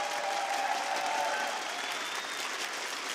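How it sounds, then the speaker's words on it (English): A large audience at the Rainbow Six Siege Invitational esports event applauds steadily, dense sustained clapping at full volume throughout with a faint tone running under it. "Please give a big round of applause to Amelia and Simon"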